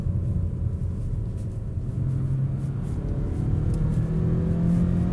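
A 2019 Mazda 3 engine revs up in a loud, continuous low rumble that holds steady for about five seconds, with no voices over it.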